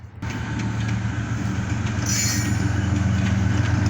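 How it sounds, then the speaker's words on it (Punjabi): A Pakistan Railways express train passes close by, its wheels rumbling and clattering loudly with a brief high squeal partway through. "ਹੁਣ ਤੁਹਾਨੂੰ ਅਸੀਂ ਟ੍ਰੇਨ ਦਿਖਾਉਂਦੇ ਹਾਂ।"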